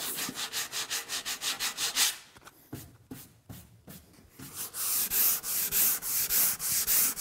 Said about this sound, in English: you sand over them a little bit, and you can feel them disappear, and you can hear them disappear